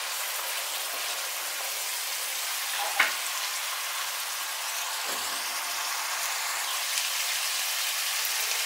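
Oloroso wine sizzles in a hot pan as its alcohol cooks off for a salt cod rice dish, a steady broadband hiss with a couple of faint clinks, no talking.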